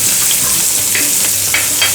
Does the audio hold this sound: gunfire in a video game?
no